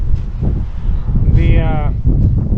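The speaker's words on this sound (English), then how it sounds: "Super windy today." Strong gusts batter the microphone outdoors at a building site in heavy low rumbling bursts, with a person's voice and a brief tonal squeal heard through the roar.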